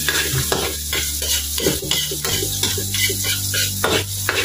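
Chopped garlic, lightly salted, sizzling and crackling steadily in hot oil in a pan, with a spoon or spatula stirring and scraping at intervals close by.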